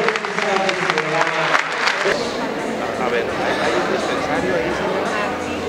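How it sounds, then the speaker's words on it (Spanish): Applause from a crowd at a government event for older adults, dense clapping at first that thins into a steady murmur of crowd chatter. "un fuerte aplauso por favor para todos ustedes"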